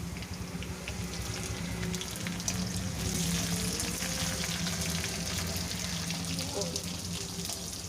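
Capsicum drops into onions and green chillies frying in a pan for paneer pulao, a steady close sizzle and crackle with faint clatter, running continuously throughout with no one talking over it.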